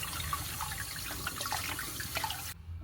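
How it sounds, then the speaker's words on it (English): Leafy greens are rinsed under running water from a kitchen tap, a steady close splashing with small drips and rustles until the flow cuts off near the end. "Like rinse it with water a few times."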